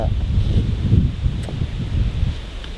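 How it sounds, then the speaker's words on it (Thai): Cool mountain wind on a hillside road toward Doi Mon Jam in Chiang Mai, a steady loud gusting rush buffeting the microphone, with faint rustling throughout. "ดูดิ แบบลมเย็นมาก"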